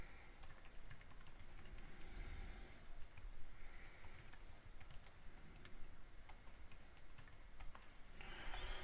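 Typing on a computer keyboard to enter email details, soft close key clicks in quick uneven bursts over a quiet room hum.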